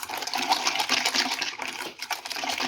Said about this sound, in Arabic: غنزيدو عليه كاس ديال الماء